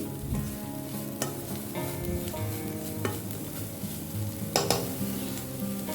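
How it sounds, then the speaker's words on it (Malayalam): Green beans sauté with grated coconut in a pan for a Kerala-style stir-fry, with a continuous close sizzle punctuated by several sharp clinks and scrapes of a spoon against the pan. "തേങ്ങ ചിരകിയത് ഇട്ടിട്ട് ഒരു 2 മിനിറ്റോളം നിങ്ങളൊന്ന് വാട്ടിയെടുത്താൽ മതി."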